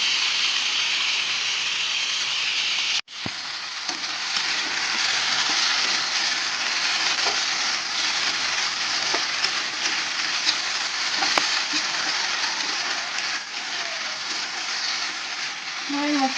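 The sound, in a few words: spice paste sizzling in pan with vegetables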